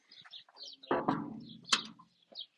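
Ducks and geese calling nearby in a village garden, a few short honking and clucking bursts with quiet gaps between them.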